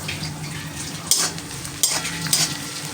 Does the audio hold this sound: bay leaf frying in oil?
yes